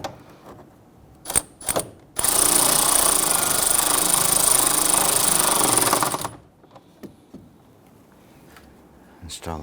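A power ratchet or impact tool runs in one sustained, loud burst of about four seconds while tightening the cooling fan bolts on a 2017-2020 Hyundai Elantra 2.0L, with brief clicks before and after.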